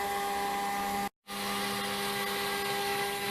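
A CNC router cutting, a loud, steady high-pitched machine whine with constant hum that cuts out for an instant of silence and then resumes at full level.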